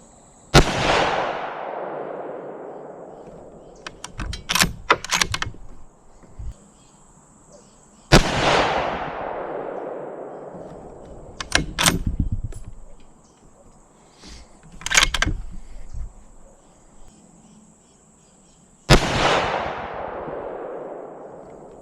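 .308 Remington rifle firing Core-Lokt Tipped 150-grain ammunition: three loud, sharp gunshots spaced several seconds apart, each followed by a long rolling echo, with smaller clatter between shots.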